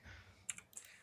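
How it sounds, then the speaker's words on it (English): A single key pressed on a computer keyboard makes a couple of faint, quick clicks over quiet room tone. "just hit A on the keyboard"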